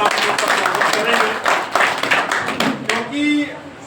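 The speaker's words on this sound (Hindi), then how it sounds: "एक बार जोरदार तालियों के साथ स्वागत करेंगे" Audience clapping to welcome a poet at a gathering on the 1857 revolt hero Raja Dariyarao Singh Nagar, a dense patter of hands mixed with a voice over a PA, tapering off near the end.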